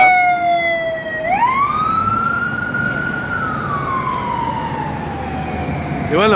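A fire engine or ambulance siren wails up and down loudly near Grand Army Plaza in Brooklyn, its pitch sweeping over busy city traffic noise.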